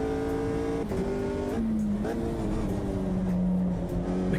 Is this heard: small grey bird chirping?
no